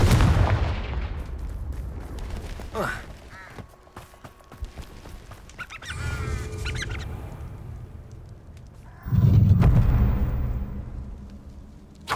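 Confringo fire spells burst in Hogwarts Legacy combat: several loud explosive booms at intervals, each with a crackling tail, amid scattered game sounds and brief vocal grunts.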